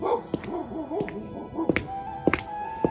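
Village dogs in a snowy village near Ljubljana bark in several sharp, separate yaps spaced across a few seconds, moderately close, with a faint whine in between.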